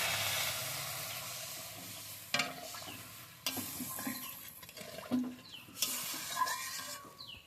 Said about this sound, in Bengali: মশলা কষে গেছে, এবার আমি জলটা দিয়ে দিচ্ছি।